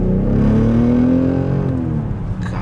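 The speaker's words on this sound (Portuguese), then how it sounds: "Vamos acelerando aqui pra ninguém atropelar nós." Engine of a car with the optional M package and M wheels revving hard as it accelerates away, a loud, steady rising roar that fills the whole stretch close by.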